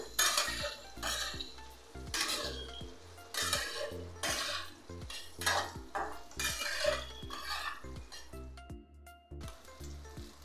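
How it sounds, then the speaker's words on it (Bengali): Soybean chunks frying in a pan, with rhythmic stirring and scraping of a utensil against the pan over a steady sizzle, repeated strokes close up and no voices. "সয়াবিনগুলো ভাজা হয়ে গেছে"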